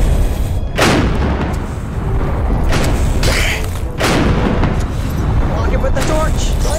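Cannon blasts in the Rec Room Isle of the Lost Skulls quest, three heavy booming shots spaced a few seconds apart, loud and close, with continuous game noise and commotion between them.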